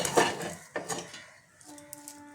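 Lentil dough for dhoka being lifted out and set onto an oiled plate with a metal utensil, a few clear scraping clinks up front, then softer taps and faint ringing metal toward the end, no talking.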